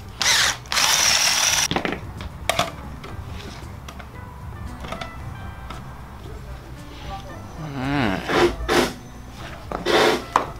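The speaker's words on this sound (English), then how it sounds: "To do that, we can just use our uni bit." A power drill with a step drill bit bores through a car dash bezel during a radio installation, with short loud bursts of whirring and grinding between quieter handling noises.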